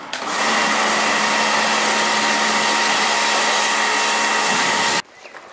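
A Nissan Skyline with a fresh ceramic coat being rinsed off with water, a steady loud hissing spray lasting about five seconds before it cuts off abruptly, leaving quiet background.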